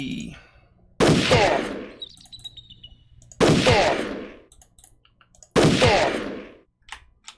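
Three loud, sharp gunfire bursts from the Jagged Alliance 2 video game, each a hard crack with a long decaying tail, spaced a couple of seconds apart with quiet gaps between.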